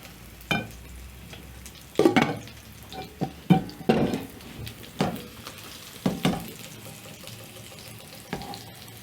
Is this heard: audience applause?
no